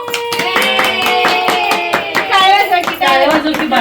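A small child claps their hands in quick, even claps, close up and fairly loud, while voices talk over the clapping.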